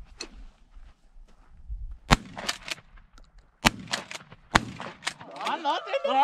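12 gauge shotguns fired outdoors at thrown air targets, three sharp loud blasts spaced a second or two apart, with people talking and shouting between and after the shots.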